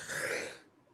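A single short sneeze bursts out abruptly and fades within a second, heard fairly close with no talk over it.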